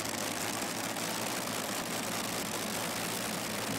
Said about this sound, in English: Two Rolls-Royce Griffins running on Avgas.